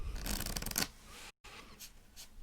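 Playing cards riffle together in a quick shuffle, close and crisp, then a brief pause and a few softer card sounds.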